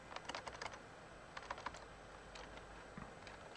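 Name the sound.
typing on a computer keyboard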